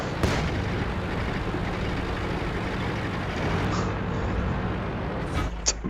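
A tank cannon shot in a T29 tank battle video game, heard as a loud boom inside a constant heavy engine and battle rumble, with a second sharp blast near the end.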